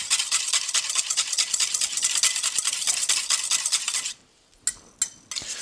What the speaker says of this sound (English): So I just have a little bit of almond flour and egg whites. And I'm going to whisk that together.